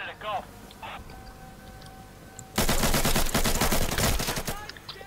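Rapid automatic gunfire from the video game Insurgency, a loud dense burst taking up the second half, following quieter game noises and voice chat.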